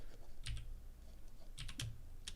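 Keys clack on a computer keyboard in quick bursts, a few clustered strokes with short pauses between, close and clear with no voices.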